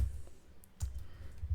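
Keystrokes on a computer keyboard while entering data into an Excel spreadsheet, a few sparse, soft clicks close by, alone with no talk.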